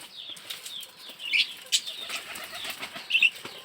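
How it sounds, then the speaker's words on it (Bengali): Pigeons on a pigeon farm flap their wings in several quick fluttering bursts, close by, with soft bird movement and faint chirps between them and no talking. "কি সুন্দর সব কবুতর"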